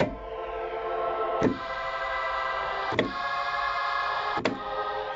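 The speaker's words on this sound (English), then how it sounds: "Then I had this string loaded into Renoise." Sampled string chord loaded into Renoise at 12-bit on a Roland S-330, a sustained, harmonically rich pad retriggered about every one and a half seconds, each restart marked by a soft attack, steady and alone.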